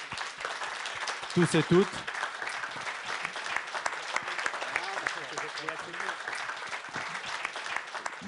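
Steady applause from a conference audience at a Paris textile industry event, moderately loud and continuous, with a speaker's voice briefly heard over it.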